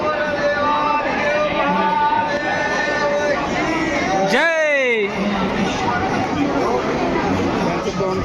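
Crowd of devotees chattering while waiting in line at Trimbakeshwar temple in Nashik, a steady dense babble of many voices with a brief whistle-like sweep midway.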